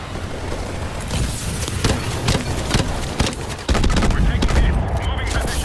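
A grenade launcher fires during the Call of Duty: Advanced Warfare campaign amid dense gunfire, with rapid loud bursts and sharp cracks packed through the passage.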